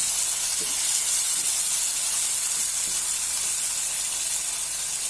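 Soft tomatoes cooking down in oil sizzle with a steady, close hiss, broken by a few faint scrapes of a spoon stirring the mushy mixture in the pan.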